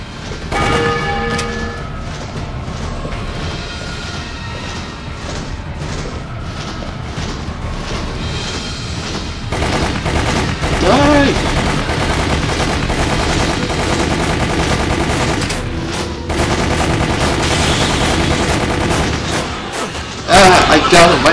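Gunfire rings out in Resident Evil Umbrella Chronicles as a player fires a newly picked-up shotgun. Repeated bursts of shots run on and off through the clip over game music and a talking voice.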